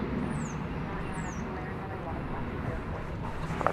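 An American Airlines Boeing 737-800 bound for Guadalajara at DFW Airport, heard as a steady broad jet roar throughout at moderate distance, with outdoor wind and a couple of faint chirps above.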